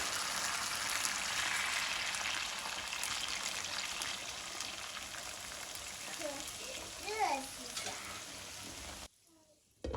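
Cola poured into a hot pan of tiger-skin fried eggs with scallion, ginger, garlic, soy sauce and oyster sauce gives a loud, steady hiss. The hiss drops away abruptly near the end, and a brief voice-like tone rises just before.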